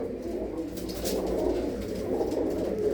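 A parrot-coloured pigeon in a village loft near Amritsar coos softly in low, murmuring calls over faint background noise.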